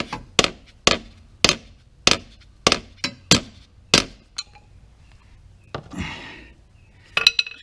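A small hammer taps repeatedly on a BMW DCT transmission part, about eight sharp, evenly spaced metallic knocks up close, followed by a few scattered clinks and handling noises.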